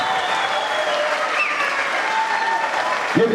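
Wedding guests give the newlyweds a sustained, dense round of applause that stays loud and even throughout, with faint crowd murmur mixed in.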